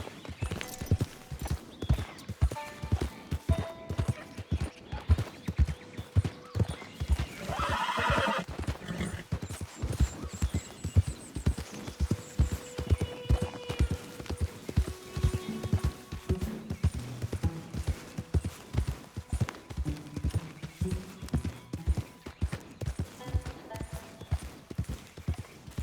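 A horse in Red Dead Redemption 2 gallops with a rapid, rhythmic pounding of hooves throughout, and a loud neigh cuts in near the middle.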